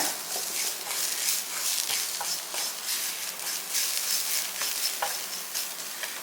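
Crushed garlic cloves frying with sesame seeds in a pan, a steady close sizzle with brief crackles and stirring scrapes, no talk.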